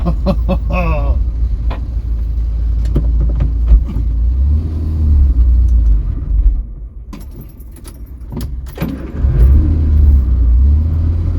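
A Vauxhall Viva barn-find car on a test drive rumbles loudly up close with a cabin-level engine drone, shifting load and rattling jingles; short vocal exclamations come through briefly.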